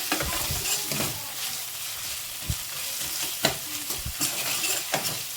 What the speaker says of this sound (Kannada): ನೋಡಿ, ಈ ರೀತಿ ಚೆನ್ನಾಗಿ ಫ್ರೈ ಮಾಡ್ಕೊಳ್ಳೋಣ.